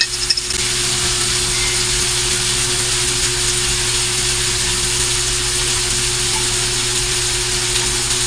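Milkfish (bangus) frying in oil with a splash of vinegar gives a loud, constant close sizzle and crackle that barely changes throughout, with a low steady hum underneath.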